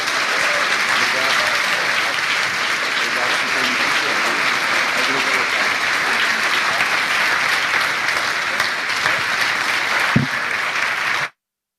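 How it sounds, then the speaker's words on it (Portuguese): A church congregation breaks into sustained, full-room applause, dense clapping at a steady level that cuts off abruptly at the end, with some voices mixed in. "dar uma salva de palmas para esse casal."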